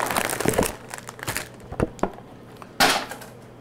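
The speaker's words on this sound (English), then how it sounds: "I'll get this box of cake mix started" A cardboard box of cake mix being opened in a kitchen, with close crinkling and tearing of packaging in several short bursts, then a louder rustling tear near the end.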